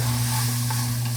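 Onion, ginger and oregano sizzle and fry in a pan, a loud, steady hiss with a low hum underneath and no voices.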